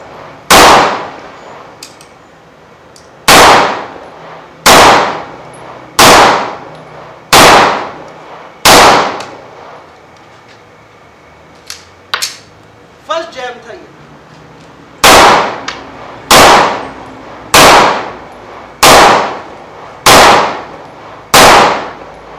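A Beretta M9A3 9mm pistol fires in double action at a range: a run of loud, sharp shots spaced about a second apart, a pause with small clicks and a brief clatter midway, then another evenly spaced string of shots.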